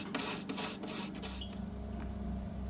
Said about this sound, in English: I found this toothbrush works good in these spindles.